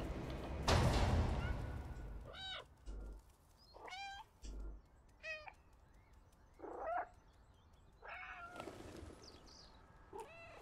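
A stray cat meows repeatedly in an open city setting, with several distinct rising cries spaced across the stretch, fairly close, and bursts of broadband noise in between; a voice is faintly present.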